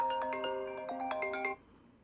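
A short electronic ringtone melody of bright chiming notes plays from an Apple Watch Series 5 for about a second and a half, then cuts off abruptly.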